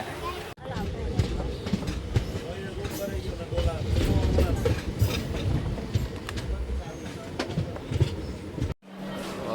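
Rumbling, rattling noise of a passenger train carriage in motion toward Somnath, with people talking over the steady clatter and a brief cut near the end.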